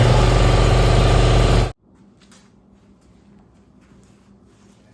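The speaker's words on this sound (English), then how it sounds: "my lovely voice activated air compressor decided to rudely interrupt" An air compressor runs loud and steady for under two seconds, then cuts off abruptly, leaving quiet background clatter.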